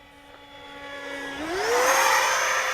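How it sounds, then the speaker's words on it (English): A Freewing F22 RC electric ducted-fan jet with a 12-blade fan on a Turnigy SK3 1500kv motor and 8S battery makes a slow low pass, its steady whine rising in pitch and swelling louder as the throttle opens. "I'm going to try a real slow pass here with half flaps, rudder brake, everything going, and see what happens."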